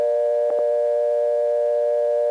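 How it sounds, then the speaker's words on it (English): A steady telephone dial tone from Harrisonburg, Virginia, in 1976 hums continuously, with a couple of faint clicks near the start. "That dropped us right back to dial tone after it played twice."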